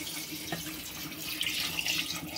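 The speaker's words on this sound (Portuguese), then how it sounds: "Já refogou bem, agora vou colocar aqui a água." Water poured into a cooking pot after a sauté in a farmhouse kitchen, a steady splashing stream running for a couple of seconds and growing a little brighter toward the end, close by and with no talk.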